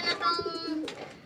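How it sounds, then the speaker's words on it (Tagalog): Domestic pigeons coo in a pair of soft, low throaty calls, close by and fairly quiet, with faint background noise between them. "So, ito na mga kalapati natin"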